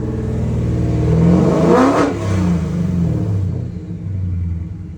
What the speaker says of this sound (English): it sounds absolutely fantastic with those custom headers and Borla exhaust on it